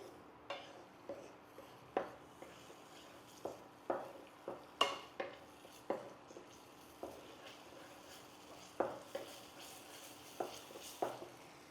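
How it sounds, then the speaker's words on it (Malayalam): A spoon stirs cornflour water into garlic, curry leaves and chilli in a pan, scraping and clinking against the metal in a regular beat about once a second over a faint sizzle. "ഈ ഒരു കോൺഫ്ലോറിൻ്റെ വെള്ളം ആഡ് ചെയ്ത് കൊടുക്കാം നന്നായിട്ട് മിക്സ് ചെയ്യാം"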